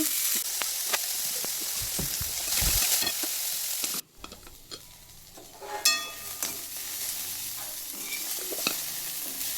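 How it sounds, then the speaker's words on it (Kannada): Small-cut cauliflower frying in oil in a pan hisses loudly and steadily, then the sizzle drops away briefly as utensils clink and stir before the frying noise returns more softly. "ಫ್ರೈ ಮಾಡ್ಕೊಳ್ತೀನಿ ಹುರ್ಕೊಳ್ತೀನಿ ಎಣ್ಣೆ ಹಾಕಿ ಎಣ್ಣೆ ಹಾಕಿ ಹುರ್ಕೋಬೇಕು"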